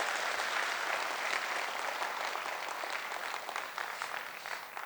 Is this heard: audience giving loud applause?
yes